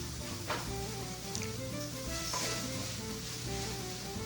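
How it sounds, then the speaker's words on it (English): Shrimp sautéing in a hot pan, a steady close sizzle and crackle of frying that runs continuously with a faint low hum beneath it. "we're just gonna saute our shrimp for our Jesus eggs"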